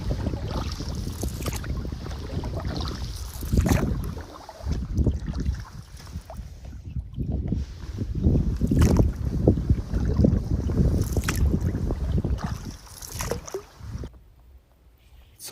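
Canoe paddling on a lake in fall, with steady strokes and water swishes mixed with strong wind buffeting the microphone, while someone talks over the sound.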